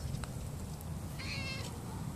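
A kitty meows outdoors near someone's grandpa's home, a single clear rising cry at the end over steady low background rumble, with a faint chirpy sound midway.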